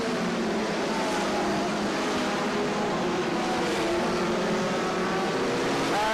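BriSCA F1 stock cars race around the Baarlo long track in 1998, a dense, continuous roar of several engines held loud and steady throughout with no break.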